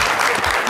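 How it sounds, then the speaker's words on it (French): An audience breaks into a brief burst of applause, a dense wash of clapping lasting under a second. "On peut l'applaudir très très fort."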